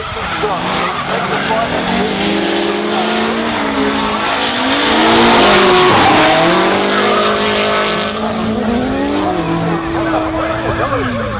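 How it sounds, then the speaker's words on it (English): Drift cars battle at a D1NZ Pro-Am series round at Hampton Downs, including a chasing 180 SX, with engines roaring at high revs and tyres squealing continuously through the drift, loud and close, under a commentator's voice. "Joe Marshall for a spot in the top 4, the ATJ 180 SX putting on a strong chase"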